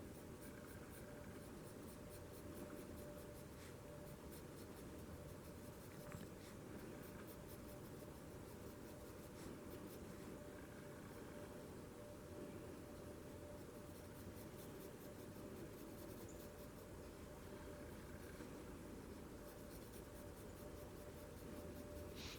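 A mechanical pencil scratches graphite across paper while drawing a landscape, giving a steady, continuous grainy rubbing of short strokes, quiet and close, with no voices.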